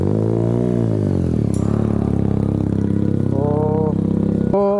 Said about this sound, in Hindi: तो भाई इसका साउंड थोड़ा नोट कर लो